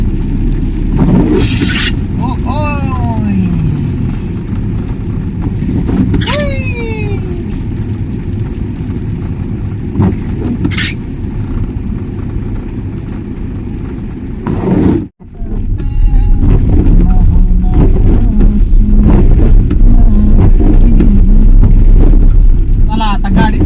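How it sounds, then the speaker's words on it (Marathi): Vehicle driving along a road, a loud continuous rumble with wind buffeting the microphone, a brief dropout midway, and voices talking over it. "गाडी चालवत चालवत व्हिडिओ बनवायला लागलेला"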